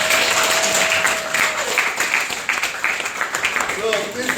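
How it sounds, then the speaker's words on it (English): An audience at a City of Canton meeting applauds firefighters promoted from recruit, a sustained wash of clapping from many hands, with a voice speaking over the applause. "give your fellow colleagues a round of applause"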